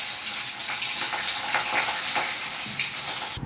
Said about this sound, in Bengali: তেলটা হয়ে গেছে, এবার আমরা মাছগুলো তেলের মধ্যে ছেড়ে দিচ্ছি।